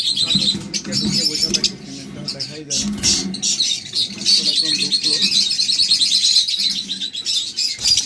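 Budgerigars and lovebirds at a bird seller's chirp and tweet continuously in a busy chorus, bright and dense throughout, with someone talking over them.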